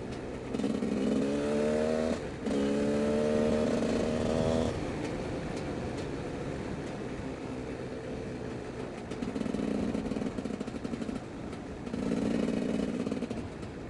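A motorcycle engine putters and revs in bursts, fading to a quieter rumble in between, heard at moderate distance.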